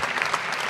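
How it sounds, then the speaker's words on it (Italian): Congress audience at a political party's programmatic congress breaks into applause; a short, dense burst of clapping with a few louder claps, steady and alone. "un applauso grande a tutti quanti voi"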